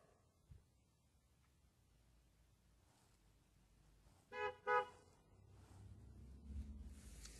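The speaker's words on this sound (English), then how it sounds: "Got distracted by the honking" A car horn honks twice outside, two short toots in quick succession heard faintly at a distance, followed by low traffic rumble.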